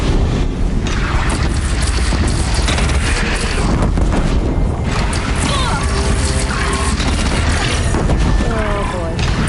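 A wooden bridge in Horizon Zero Dawn, shot down and collapsing: loud, continuous crashing and booming rumble with splintering debris, steady and dense throughout with no pause, some game voices and chatter mixed in.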